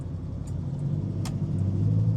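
A 1967 Pontiac GTO convertible's 400 V8 idles steadily at close range, a deep even rumble that swells slightly toward the end, with a couple of small clicks over it.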